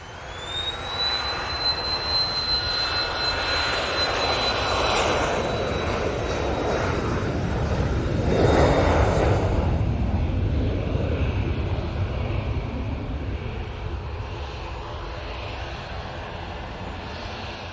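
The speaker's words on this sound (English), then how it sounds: "So, this Embraer Phenom is going off to Palma de Mallorca," An Embraer Phenom business jet taxis and departs at Manchester Airport. Its turbine whine holds steady high above a broad, rising roar that swells near the middle and then eases off slowly, with no voices over it.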